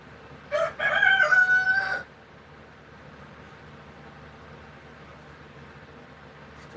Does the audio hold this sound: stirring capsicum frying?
no